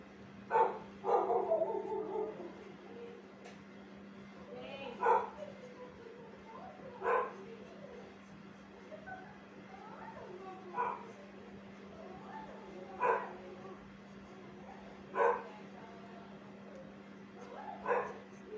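A dog barks outdoors in the background, single barks and short yips every couple of seconds, distant and fairly faint over a steady low electrical hum.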